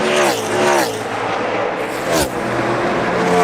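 NASCAR Cup Series race cars roar around the track on the final lap, a loud continuous engine howl with pitch sweeps as cars pass close by.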